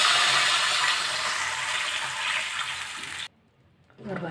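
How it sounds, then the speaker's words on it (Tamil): Two cups of water poured into a cooking pan of tempered spices and curry leaves make a steady splashing gush that cuts off abruptly, followed by a faint clink. "ரெண்டு கப்பு தண்ணி சேர்க்குறேன்."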